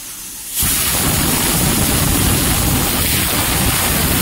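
Pressure cooker whistle releasing steam while vegetables cook for sambar, a sudden loud continuous hiss of venting steam that starts after a brief quiet moment and holds steady to the end.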